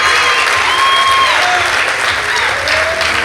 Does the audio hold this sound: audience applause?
yes